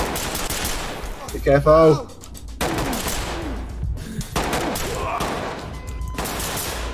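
Gunfire in the tactical shooter Ready Or Not comes as rapid bursts of close shots under ongoing chatter, with a short spoken warning partway through and more shooting after.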